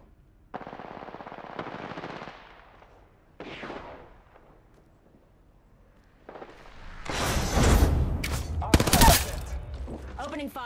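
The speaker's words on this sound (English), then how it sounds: "Returning fire. Got one. Enemy down." Gunfire in Apex Legends during a battle royale fight: bursts of automatic weapon fire, with a brief quiet gap mid-clip, then a loud, dense stretch of rapid shots and impacts toward the end.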